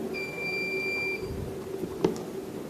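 A quiz buzzer at a conference sounds as an electronic beep, a steady tone lasting about a second, followed a moment later by a brief click-like blip over quiet room noise.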